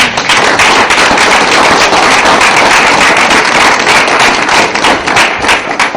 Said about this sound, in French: que nous vous applaudissions très chaleureusement